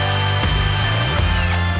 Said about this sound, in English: That's going to involve drilling a pilot hole and then using an impact driver to mount them up.